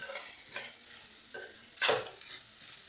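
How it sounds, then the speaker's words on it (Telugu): Grated coconut frying and being stirred in a pan, with a steady soft sizzle and several scraping stir strokes, one louder scrape near the end, no voices. "కొబ్బరి ఇలా బాగా వేగాలి, పచ్చి లేకుండా ఇలా వేగాలి"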